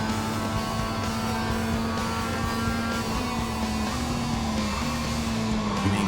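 A Mazda MX-5 race car engine in the iRacing sim drones loud and steady at high revs, holding a constant pitch with slight wavering as the car runs the Okayama circuit.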